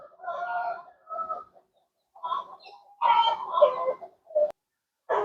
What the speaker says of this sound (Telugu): కోడి ఎంత అందంగా ఉందో దీని పేరు అబ్రాస్ అనమాట